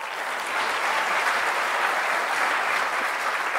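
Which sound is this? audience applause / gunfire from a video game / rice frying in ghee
audience applause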